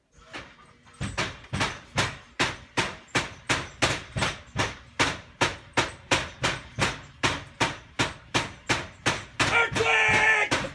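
A single stamp in a gold mine stamp mill pounds over and over in an even rhythm, about two heavy metallic thuds per second, loud and close.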